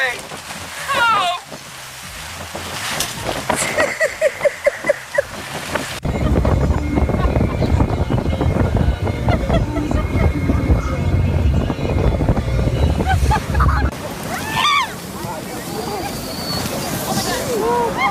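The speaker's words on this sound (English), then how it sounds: "I cannot get over how windy it is." Strong, gusting wind roars and buffets the microphone outdoors, with heavy broadband blasts in the middle and people speaking and exclaiming around it.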